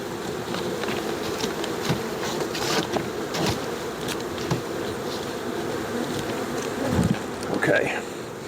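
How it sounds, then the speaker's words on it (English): A swarm of honey bees drones in a steady, dense buzz close to the microphone, with a few louder passes near the end and soft handling noises underneath. "There's a lot of bees."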